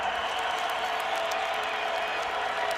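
A stadium crowd roars steadily at a 2019 FCS quarterfinal college football game between North Dakota State and Illinois State, a dense, continuous wash of cheering and applause.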